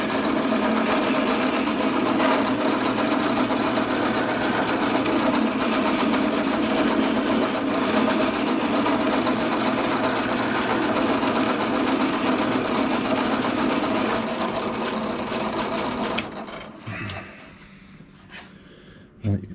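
A drill press grinds at a lawn mower blade during sharpening, a loud, steady motor hum with gritty rasping that runs for most of the stretch before winding down into scattered handling knocks.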